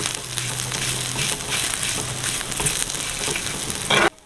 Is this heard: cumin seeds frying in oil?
yes